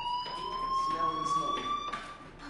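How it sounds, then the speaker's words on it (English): A fire alarm in the video game Life is Strange sounds as a steady, shrill electronic tone that holds throughout, with faint voices underneath. "Hey, do you hear that fire alarm?"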